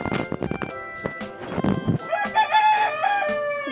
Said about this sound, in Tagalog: Itong manok ko.